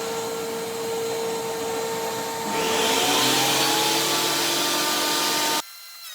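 A Zipper HB204 planer/thicknesser flattens the uneven top face of a wood board: a loud, steady motor whine swells into a harsher cutting roar for a few seconds, then cuts off abruptly.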